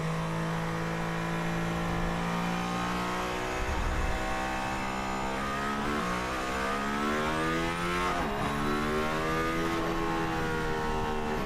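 A car engine revs up through rising gears on a race circuit, loud and close, its pitch climbing and dropping at each shift, with a brief thump partway through.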